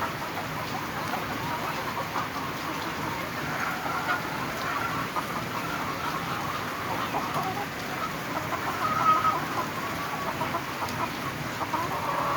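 Chickens cluck in a dense, steady chatter inside a poultry shed housing around 2200 birds, with a rushing background noise under the continuous flock sound.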